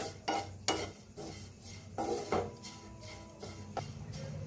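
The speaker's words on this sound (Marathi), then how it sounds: "छान असं खोबरं भाजायला लागलेलं आहे" Grated coconut dry-roasting in a pan, heard as rhythmic scraping and stirring strokes of a utensil against the pan with a soft sizzle underneath, fairly quiet and close.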